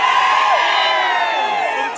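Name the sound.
crowd of Shiv Sena supporters celebrating election win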